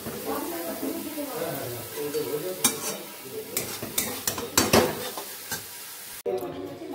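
Shredded cabbage stir-fried in a pan, with a soft sizzle and a run of scraping, clattering spatula strokes against the metal, growing busier toward the end while a voice talks over it.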